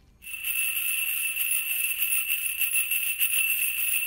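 Metal concave shaker filled with BBs or shot, swirled in a steady continuous motion, giving a sustained bright hiss and rattle of rolling pellets, close and fairly loud with no talk.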